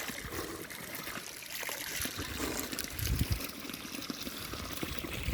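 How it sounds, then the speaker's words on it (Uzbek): Spring water trickles and flows steadily outdoors, a continuous close watery babble with soft splashes throughout. "Suv oqayapti mana."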